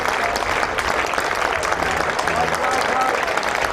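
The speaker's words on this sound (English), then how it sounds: "applause for Matt Lamb as he walks off" Cricket spectators at a Warwickshire versus Somerset one-day match applaud a batsman walking off after a match-winning innings, a steady wash of distant crowd clapping with a commentator talking over it.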